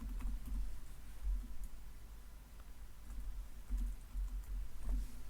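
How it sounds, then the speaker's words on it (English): Keys tapped on a computer keyboard while entering data into accounting software, a quiet, irregular run of soft clicks and patters with brief bursts, low in level over a faint steady room hum and no speech. "Then we will type in the type name and foreign name as well."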